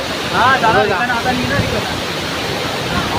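A waterfall at Harchiri roars in a loud, continuous broadband rush heard up close, with a voice speaking briefly over the torrent early on.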